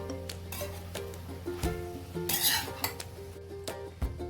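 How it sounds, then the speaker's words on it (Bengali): A metal spatula scrapes and clinks in a pan while veg fried rice is stirred and mixed, with a faint sizzle beneath irregular close utensil knocks. "খুব ভালো করে এবার আমি মিশিয়ে নেব।"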